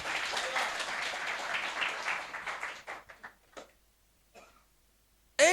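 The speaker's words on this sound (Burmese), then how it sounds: "ဟာလေလုယာသူဖရားကိုလက်ခုပ်တီးပြီးမှချီးမွမ်းကြရအောင်" Congregation clapping in praise at a church service, dense applause for about three seconds, then thinning into a few scattered claps before fading to near silence.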